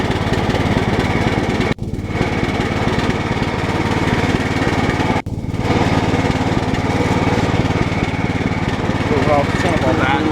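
Cub Cadet 1018 lawn tractor engine running steadily and loudly while the tractor backs up, with two brief dropouts in the drone.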